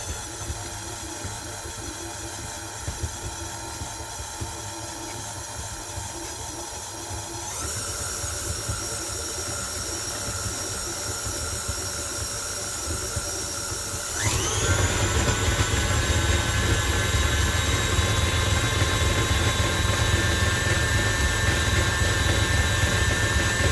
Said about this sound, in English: we are going to mix those together until they are fluffy and creamed